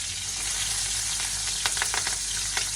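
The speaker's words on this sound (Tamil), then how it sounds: "கருவேப்பிலை சீரகம் எல்லாம் போட்டு தாளிச்சிடும்" Onion, green chilli, curry leaves and cumin tempering in hot oil give a steady, dense sizzle with a few sharper crackles and spatters near the end, close and continuous with no talking.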